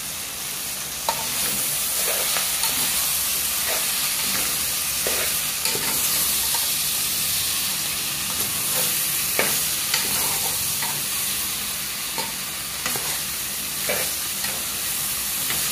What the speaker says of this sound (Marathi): आता आलं लसूण जरा पेस्ट भाजेपर्यंत 2 मिनिटं परतून घ्यायचं